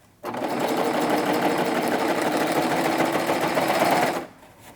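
A serger runs continuously for about four seconds, stitching thick fabric together in a loud, close, even whir that starts abruptly and stops cleanly.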